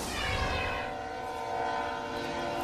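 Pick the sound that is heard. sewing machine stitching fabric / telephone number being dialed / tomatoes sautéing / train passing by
train passing by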